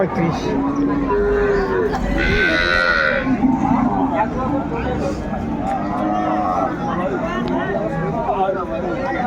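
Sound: cows and calves at a cattle market

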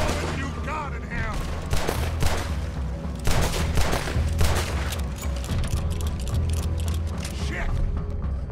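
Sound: gunfire in video game Red Dead Redemption 2

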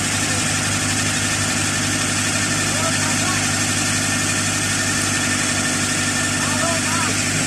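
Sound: CAT 307C excavator engine started and idling

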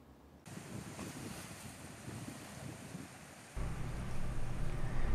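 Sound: sea waves on Java's south coast

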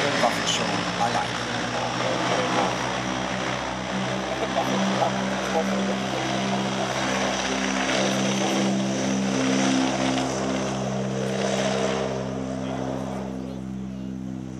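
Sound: Transall turboprop transport aircraft flying

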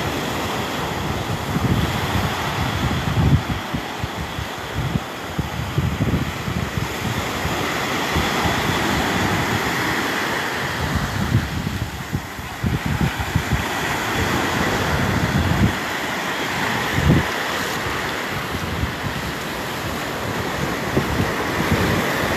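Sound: ocean waves and wind at the beach

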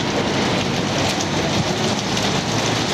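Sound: hot water pouring from burst heating pipe in apartment building

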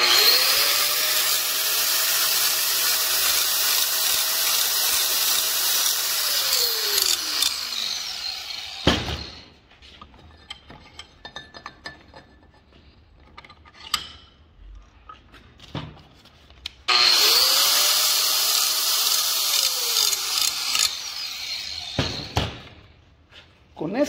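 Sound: grinder disc polishing metal template edge

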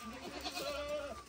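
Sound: male goat bleating while being castrated

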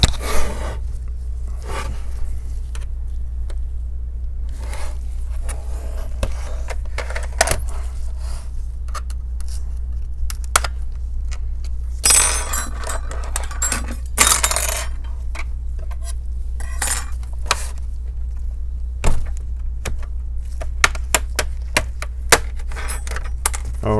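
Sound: prying open MSI laptop back cover

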